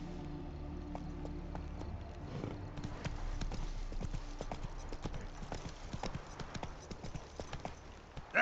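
Hooves of Roach, a horse in The Witcher 3, clip-clopping at a walk in a steady, fairly quiet rhythm of distinct thuds that grows busier and a little louder over time.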